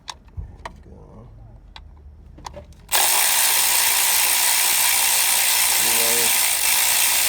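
An ACDelco ARW1209 cordless ratchet spins up after a few clicks and a brief spoken word, giving a loud, continuous mechanical whir close by.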